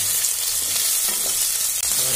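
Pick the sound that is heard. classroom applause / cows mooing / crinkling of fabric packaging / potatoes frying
potatoes frying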